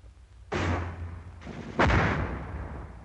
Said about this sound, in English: mortar fire is high-angle fire which can slam down from the sky